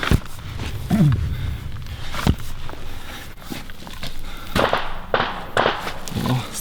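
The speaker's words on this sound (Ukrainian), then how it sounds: "стріляють." Several sharp, loud cracks burst out at irregular intervals over a noisy outdoor background, sounding like nearby gunshots, at a frontline position near Bakhmut.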